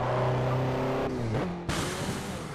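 Turbocharged Toyota Celica ST205 engine in the Forza 4 racing game, loud and steady as it accelerates through the gears, with pitch climbing and a gear shift roughly midway before revving on again.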